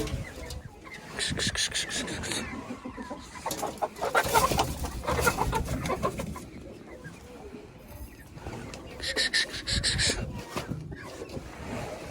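Chickens in a coop cluck and squawk in several loud bursts close by, mixed with rustling and handling noises, while someone speaks intermittently.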